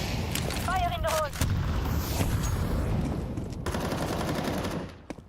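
A grenade thrown in Counter-Strike 2 during a match, amid a busy stretch of sharp gunfire cracks and blasts, with a short burst near the start and a thud near the end.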